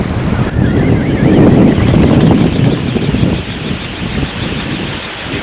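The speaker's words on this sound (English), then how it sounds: "Really hear these blades." Wind turbine prop blades spinning in open wind, a steady loud whooshing rush mixed with gusty wind noise, continuous throughout.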